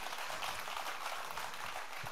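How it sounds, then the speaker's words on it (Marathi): Audience at a live Marathi comedy show in Virar Kopri breaks into steady applause, a dense, even patter of clapping that fills the whole stretch with no voices on top. "एक एक पटत असेल तर जोरदार टाळ्या."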